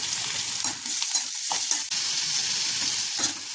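Chopped small tomatoes sizzle and fry in a pan for paneer butter masala, a close steady hiss broken by repeated scraping stirs, with no talking.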